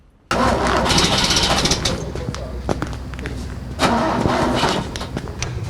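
A car engine is started in freezing weather: the starter cranks, then the engine catches and runs roughly, loud and close, with people talking over it.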